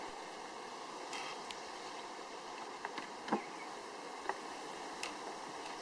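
Honey bees buzzing steadily at a queenless hive, a close, continuous drone with a few brief louder passes of individual bees near the listener.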